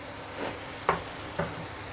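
Onion, potato and ginger fry in a pan, a steady close sizzle broken by two brief scraping stirs.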